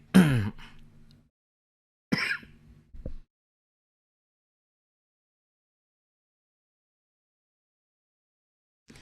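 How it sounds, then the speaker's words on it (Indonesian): A man gives two bursts of harsh coughing and throat clearing, each followed by a brief rasp, separated by a pause and then long silence. "Sorry teman-teman, saya batuk nih."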